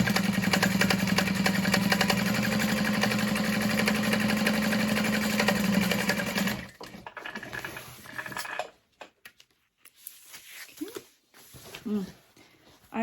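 Sewing machine topstitching a bag lining for a Gunther Bag, running in one steady, close mechanical whir for about six and a half seconds before stopping, followed by quieter fabric handling and small knocks.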